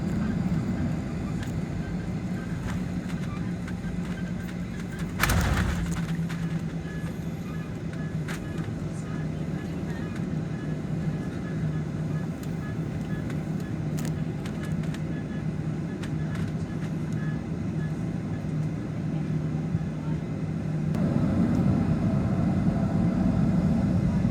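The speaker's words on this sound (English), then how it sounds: "ये उड़ान भरने के लिए भागना शुरू कर दिया है" A SpiceJet airliner's engines drone with a steady low roar from inside the cabin as the plane sits on the runway at Pune and begins its takeoff roll, the rumble swelling louder near the end.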